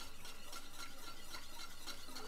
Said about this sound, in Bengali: আমি এই যে কর্নফ্লাওয়ার আর দুধটা যে গুঁড়ো রেখেছি সেটা দিয়ে আমি নাড়তে থাকবো, অল্প একদম মিডিয়াম আঁচে রেখে